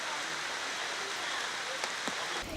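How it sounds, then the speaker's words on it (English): Steady rain pouring down at a displaced-persons camp in Jurumi village near Abuja, a dense, even hiss throughout with a couple of faint knocks near the end. "On arrival, the rains welcomed us."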